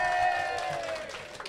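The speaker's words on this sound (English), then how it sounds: "Everybody give it up for Maximum Ogredrive!" A crowd at the Bugglebots 2018 robot combat event applauds and cheers the robot team Maximum Ogredrive, a brief, loud rush of clapping heard beneath an announcer's voice.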